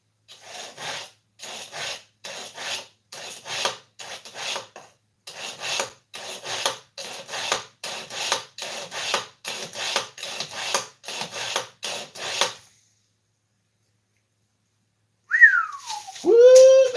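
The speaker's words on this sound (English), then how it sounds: "Knife sharpener." A knife is drawn through a sharpener in quick rhythmic rasping strokes, about twenty close, dry scrapes in a row, then a pause and a short whistle.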